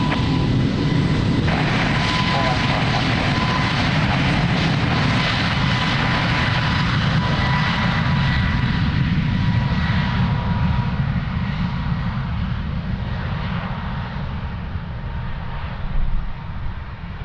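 An airliner taking off from runway 02 at Lisbon Airport, a loud continuous jet engine roar with a low rumble and a high whine that slowly fade as the aircraft climbs away.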